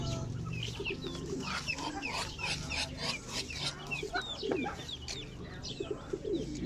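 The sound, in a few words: chicks chirping near a hut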